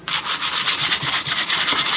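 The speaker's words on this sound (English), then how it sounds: "it says to scuff up the surface, so I'll just give that, just go at it now." Stripped paint on a Toyota Hilux being scuffed by hand, a loud close rasping rub repeating in quick, even back-and-forth strokes for two seconds.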